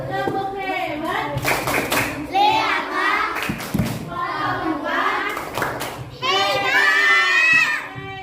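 Classroom children chant a rhythmic Indonesian clapping cheer, sharp group claps punctuating bursts of sung, sing-song young voices, loud and close, repeating in short phrases.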